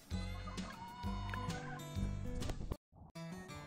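Laying hens, including Rhode Island Reds and Buff Orpingtons, cluck and chatter continuously nearby, a busy overlapping flock sound that drops out briefly near the end.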